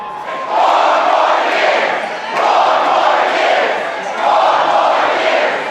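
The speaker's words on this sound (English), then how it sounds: "When the final numbers flashed across the screen, supporters of Democratic Governor John Bel Edwards were overjoyed." Election night supporters of a Democratic governor cheering in a packed hotel ballroom in Baton Rouge, loud crowd roars and shouts rising and falling in three big waves.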